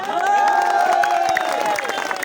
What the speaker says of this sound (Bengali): আপনারা নিজেদের জন্য একটা জোরে তালি দেন সবাই।